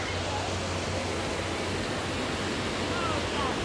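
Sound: waterfall splashing

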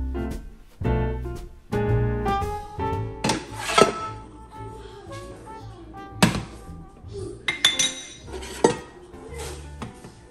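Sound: pans being handled while preparing dinner

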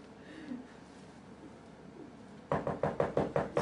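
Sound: knocking on a door

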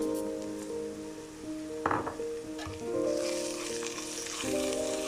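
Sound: onion, ginger, garlic and fenugreek frying

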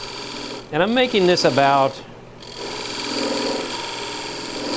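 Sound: turning tool cutting into spinning platter on lathe

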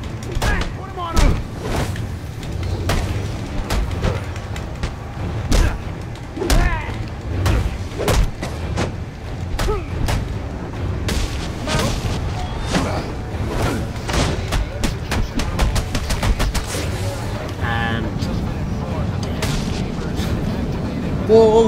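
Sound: gunfire in video game Batman: Arkham Origins

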